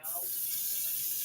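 Beef short ribs being rinsed under a running kitchen tap, a steady broadband rush of water into the sink that starts abruptly and keeps flowing evenly, fairly close.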